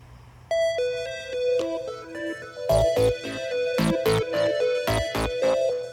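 A mobile phone rings on a call with a bright melodic tone, its notes stepping along and then striking out in repeated loud chime bursts.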